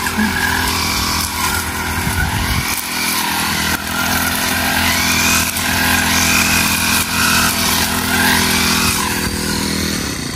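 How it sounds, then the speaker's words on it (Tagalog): A petrol grass cutter runs steadily near a fish pond, its two-stroke engine droning loud and continuous with slight shifts in pitch throughout. "Nung pinatunog po ni Bossing yung kanyang grass cutter"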